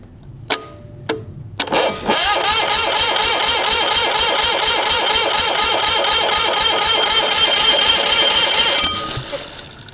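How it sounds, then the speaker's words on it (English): A rusty old Onan MDJE diesel engine cranks over on its starter in a steady, rapid, rhythmic churn lasting several seconds, loud and close, after a few sharp clicks and knocks; no talking. "Let's give it a little bit more cranking."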